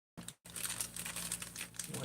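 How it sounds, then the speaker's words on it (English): Large plastic bags crinkle and rustle up close, a brief crackle then a steady stretch of handling noise with no voices. "these plastic bags are too big"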